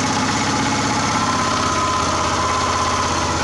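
A gasifier-fueled engine idles before any load is applied, producing a steady, close, continuous mechanical drone with a fine, even pulsing rhythm and no speech over it.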